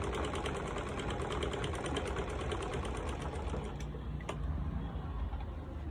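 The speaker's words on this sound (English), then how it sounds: "So now I'm trying to sew the lining together with the sacrificial material" Sewing machine stitching a turban lining to sacrificial cap material, a fast steady mechanical whir with rapid needle ticking, close and continuous with a brief pause in the pattern near the end.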